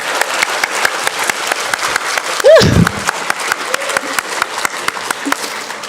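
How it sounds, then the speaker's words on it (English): Audience applause for pre-K children at a school awards ceremony, loud dense clapping with a distinct crowd texture, continuing throughout while a voice speaks briefly partway through. "Let's give a round of applause to our pre-K friends."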